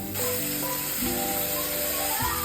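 Chopped tomatoes go into a pan of onions frying until red, for a dry-style brinjal (baingan) curry. A steady close sizzle and hiss runs throughout, layered under tonal background music.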